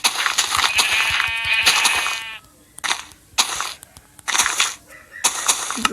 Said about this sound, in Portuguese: Achei ovelha ali.